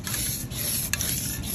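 A can of Rust-Oleum hammered spray paint hisses steadily while coating a truck bumper, a close, continuous airy spray with a small sputter near the end.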